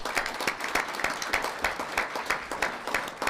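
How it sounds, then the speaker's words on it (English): An audience at a school board meeting applauds students from a science fair, steady dense clapping filling the room at close range throughout, with no talking over it. "You want to give them a round of applause?"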